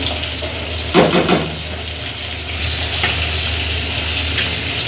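Coconut milk poured into a pot of duck curry cooked with ground spices, a short splashy liquid burst early on followed by a steady simmering sizzle, close and moderately loud with no talking.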